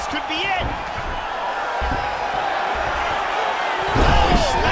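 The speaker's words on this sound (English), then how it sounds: "Oh, he slams him to the ground." A fighter slams his opponent to the ground in UFC 3, a heavy thud set against crowd noise while a commentator talks throughout.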